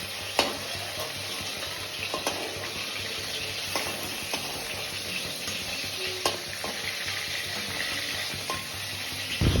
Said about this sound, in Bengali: চিংড়ি মাছগুলো মা ভেজে নিচ্ছে